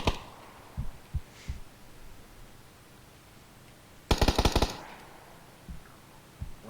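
Gunfire in the battle royale game PUBG: a sharp, loud burst of rapid shots near the middle, with a few isolated thuds and pops scattered before and after in a quiet scene.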